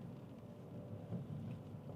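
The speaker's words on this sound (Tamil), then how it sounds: "என்ன மழை இப்போ என்ன?" Faint rain falls steadily with a low, distant rumble of thunder beneath it, a soft continuous wash with a slight swell midway.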